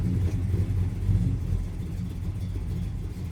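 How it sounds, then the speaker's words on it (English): Car engine idling low in gear after a carburetor adjustment, a steady deep rumble with slight uneven pulsing, close and continuous, no talk. "It's idling down about 400, but it's staying running."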